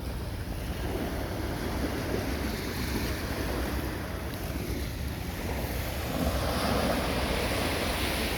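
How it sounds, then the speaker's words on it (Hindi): Continuous rushing water and wave wash at Jabal Jais, with wind buffeting the microphone throughout; no voices. "भाई यहाँ सिर्फ पानी की आवाज़।"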